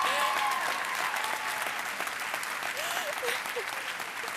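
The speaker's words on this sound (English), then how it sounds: "If I could please have a round of applause for the old man from up himself, Mr. Nicholas Hunt" Applause at a high school graduation fills the room for a retiring teacher, a broad, steady crowd clapping that lingers throughout, with faint voices and calls mixed underneath.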